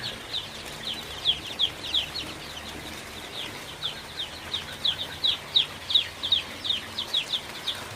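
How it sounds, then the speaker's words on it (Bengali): Sonali hybrid chicks in a poultry shed peep in quick high bursts, a busy flock chirping steadily at moderate distance over a low hum. "এই পাশে বাচ্চাগুলো জড়ো হয়ে আছে"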